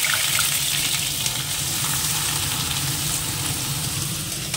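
Cut potatoes sizzle in hot oil, a steady dense hiss of frying that runs unbroken and fairly loud throughout, with no voices over it.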